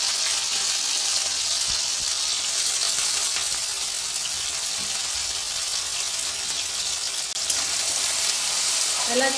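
Diced potatoes sautéing in hot oil with cumin seeds for sabudana khichdi: a steady, dense sizzle and crackle throughout, fairly close, with faint stirring scrapes and no talking.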